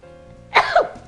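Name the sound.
sneeze from spices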